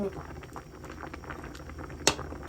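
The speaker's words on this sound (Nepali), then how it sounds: "अब यो सिस्नो पाक्दैछ।" Stinging nettle simmering in a pot, a steady soft bubbling with a faint patter throughout and one short sharp clink near the end.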